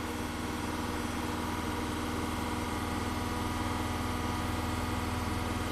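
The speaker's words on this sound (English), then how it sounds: "We'll let it idle." A Ford car engine idles steadily, a constant low droning hum with a faint mechanical buzz that holds at an even level throughout, with no talking.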